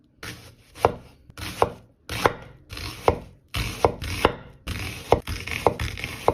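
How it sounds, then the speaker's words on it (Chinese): A knife chops half an onion on a cutting board in steady rhythmic strokes, about a dozen crisp close knocks alone without talk. "再来切半颗洋葱"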